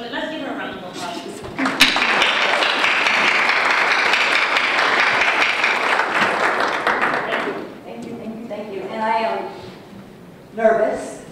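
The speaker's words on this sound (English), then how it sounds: "So let's give her a round of applause." An audience at a housing policy task force meeting applauds a presenter, a sustained burst of clapping lasting several seconds that fades, followed by someone speaking alone and a brief tap.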